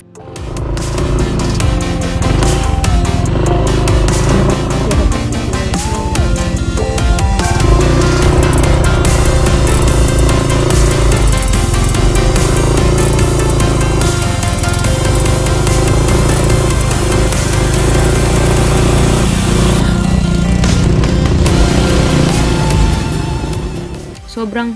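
A Yamaha NMAX155 motorcycle rides over slippery lahar, its engine droning loud and steady throughout with heavy rumble and vibration, close to the rider.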